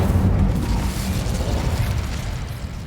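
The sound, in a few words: Incendio fire spell from Hogwarts Legacy video game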